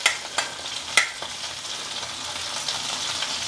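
Green chillies fry in a pan with a steady sizzle, broken by a few sharp pops and stirring scrapes near the start, all close and without voices.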